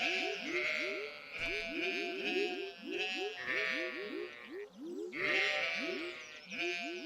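Sheep in the farming game Stardew Valley bleat repeatedly in short, clustered calls over a steady background game tune, moderately loud and close, with a person talking at times.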